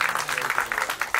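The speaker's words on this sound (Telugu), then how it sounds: "ఒకసారి గట్టిగా అందరూ చప్పట్లు." Audience clapping at a film teaser launch event, dense steady applause from a crowd close by, heard alone for just over a second.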